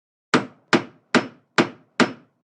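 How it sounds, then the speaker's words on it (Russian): Five sharp, evenly spaced hammer blows on a hard surface, each a crisp close strike with a short decaying ring, with no voices. "Молоток."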